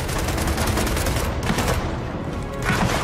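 Dense, continuous automatic gunfire rattles in the video game Gears of War 4 during a base assault, loud and close with rapid overlapping bursts and no pause.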